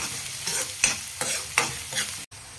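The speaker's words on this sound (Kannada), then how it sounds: "ಉಳ್ಳಾಗಡ್ಡಿ ಒಂದು ಸ್ವಲ್ಪ ಕೆಂಪಗಾಗೋವರೆಗೂ ಫ್ರೈ ಮಾಡ್ಕೊಳ್ಳೋಣ್ರಿ ಎಣ್ಣೆ ಜೊತೆ" Chopped onions frying in oil in a pan for a bitter gourd stir-fry, with soft sizzling broken by a few regular stirring swishes and scrapes, close and quiet, cutting off abruptly near the end.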